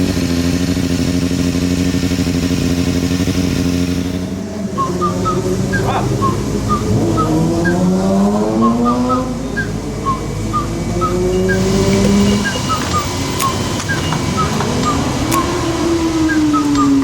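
Several motorcycles ride together on a Southern California street, engines droning and revving up and down in pitch, with one bike throttling up loudly near the end and a steady roar throughout.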